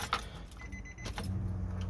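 Fuel pump priming in a 2006 Nissan Murano with a no-start fault, heard as a steady low hum that builds after a brief rattle and holds to the end, close and fairly quiet.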